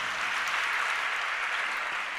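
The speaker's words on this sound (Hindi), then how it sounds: "अब देखो ताली भी बज रही" An audience at a religious discourse claps steadily, a dense even patter of many hands that continues without a break.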